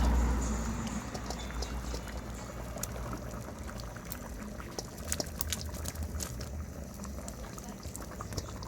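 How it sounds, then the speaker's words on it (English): Natural seasoning poured into a simmering pot of Jamaican stew peas with pigtails, a steady liquid pour and bubbling that runs for several seconds, close and moderately loud with no talking. "I'm gonna pour this natural seasoning in this now"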